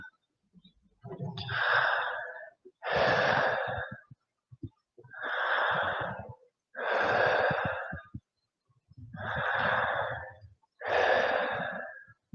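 Slow, deep breaths during a restorative yoga session, six long airy inhales and exhales in an even rhythm, close to the microphone with quiet pauses between them.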